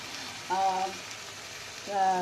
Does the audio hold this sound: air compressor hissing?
no